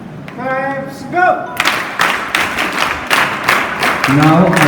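An audience claps at the inauguration ceremony of a school training cum testing camp as a guest is honored with a scarf. A voice speaks briefly, then a burst of loud, close clapping follows, and talking resumes at the end.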